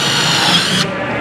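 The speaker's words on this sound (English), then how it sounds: "we have this tech screw mode that will automatically shut the tool off once it's seated in the sheet metal" A Milwaukee Gen 3 M18 impact driver drives a self-tapping screw into sheet metal with a loud, close whirring rattle that cuts off abruptly once the screw seats, leaving quieter room noise.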